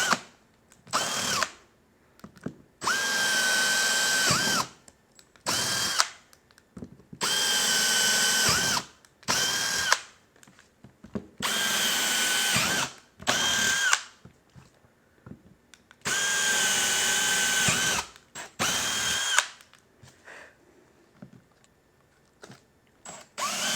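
A power tool cuts a hole in a motorcycle audio component in a shop, running in repeated loud bursts of several seconds separated by short pauses.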